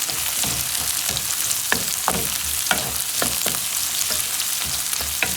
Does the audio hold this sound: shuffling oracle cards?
no